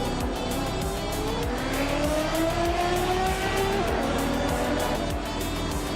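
Race cars scream around the Paul Ricard circuit, a steady loud engine roar with rising and falling whines as cars accelerate and pass, no talk over it.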